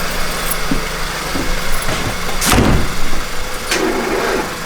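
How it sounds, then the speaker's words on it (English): A Mazda Miata NB engine, long left sitting, cranks and fires, then settles into a steady idle with a ticking lifter rattle. The engine is close and fairly loud throughout, with a brief surge near the middle. "Miata engines get really ticky when they sit. We're gonna do some nice lifter tick."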